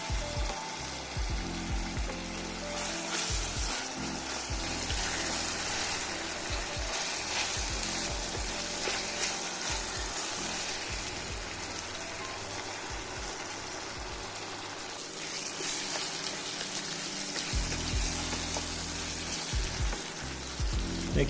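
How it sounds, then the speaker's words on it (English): Pineapple and chopped ingredients sauté in a hot pan for Jamaican-style barbecue sauce, giving a steady close sizzle and crackle throughout with occasional stirring scrapes and no talking. "Next, I'm going to saute this until the pineapple starts to caramelize."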